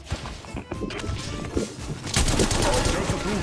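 Rapid gunfire in the Apex Legends Mobile battle royale, dense shots crackling throughout and growing louder and busier in the second half, with game effects mixed in.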